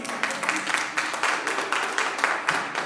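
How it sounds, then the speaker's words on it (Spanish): A church congregation claps steadily together in loose rhythmic bursts, filling the room at moderate loudness with no voices over it. "Denle un aplauso al Señor."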